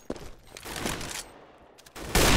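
Rapid bursts of gunfire from Counter-Strike: Global Offensive ring out through the clip, with a final loud shot or volley near the end and no talking.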